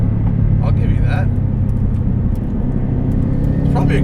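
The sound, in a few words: modified 2005 Subaru Legacy GT wagon exhaust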